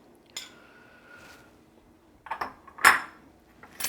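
Dishes set down into a kitchen sink while bread pudding is being prepared, giving a few separate clinks and clatters of crockery and cutlery, the loudest knock near the end, close by and with no talking.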